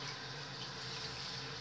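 Tap water runs steadily into a sink as a face mask is rinsed off, a constant hissing splash, close and unbroken.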